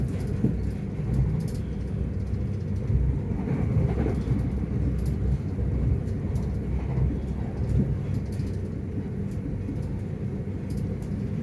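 A Southern train runs through south London between Anerley and Penge West, giving off a continuous low rumble and rattle at an even level throughout.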